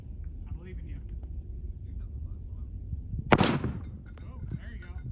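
Rifle shot, a .30-06, fired at a steel target outdoors: one sharp loud crack with a brief ringing tail, set against quiet background and faint talk nearby.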